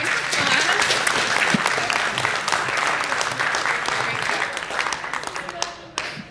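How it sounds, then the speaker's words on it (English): An audience at the end of a day's session bursts into loud, dense applause that holds steadily for several seconds before tapering off near the end, with some voices mixed in. "Let's give them a round of applause."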